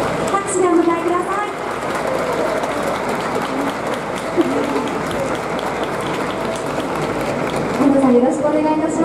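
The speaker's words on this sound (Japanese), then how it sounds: "拍手でお迎えください。" Applause from a crowd at an outdoor event at Nagasaki Station's Kamome Plaza, welcoming a guest onto the stage at the name announcement for Nagasaki's first professional basketball team. Dense and steady clapping lasts throughout, with a voice heard faintly underneath.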